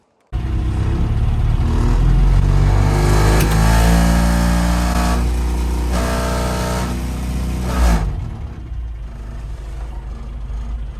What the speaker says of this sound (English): I might actually move the car back closer to the shed where the tools are.